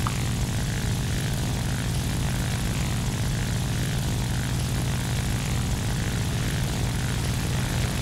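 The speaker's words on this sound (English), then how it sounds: "He's in the fast AG-112, so he's zooming away from us" An AG-112 propeller plane in War Thunder flies with a constant dense engine drone and airflow hum, loud and unbroken with no voices.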